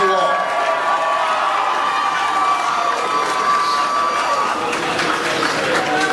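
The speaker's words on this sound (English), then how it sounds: "How about one great round of applause for two great football teams?" A large crowd at Gillette Stadium roaring and cheering for two high school football teams, loud and sustained, with shouting voices and some applause blended into the din.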